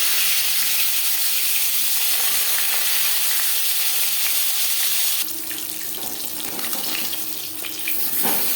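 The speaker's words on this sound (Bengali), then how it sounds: "4 চামচ রিফাইন্ড অয়েল গরম করে নিয়েছি। এবার দিয়ে দেব ম্যারিনেট করে রাখা মাছ" Marinated bhola fish frying in hot refined oil, a loud continuous sizzling hiss throughout that eases slightly after the fish settles in the pan.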